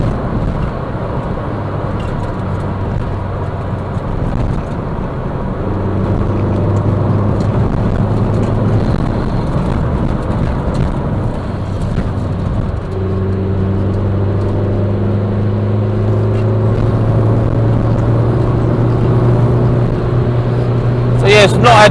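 A car drives along with a steady engine hum and road drone throughout, and someone talks over it the whole time.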